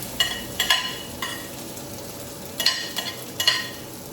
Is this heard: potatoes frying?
yes